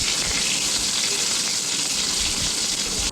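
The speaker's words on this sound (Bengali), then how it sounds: "বেগুনগুলোকে খুব সুন্দরভাবে লাল লাল করে ভেজে নেব।" Long eggplant strips frying in hot oil in a wok give a steady, dense sizzle that stays loud and close from start to finish, with no talking over it.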